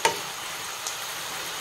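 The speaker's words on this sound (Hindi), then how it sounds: "मशरूमटा पूरा फ्राए हो माने भाजी सीझिकी फ्राए हो मसलाटा पूरा कोट है जाए" Mushroom masala fries in oil in a pan with a soft, continuous sizzle, broken by one sharp scrape at the start and a fainter one midway.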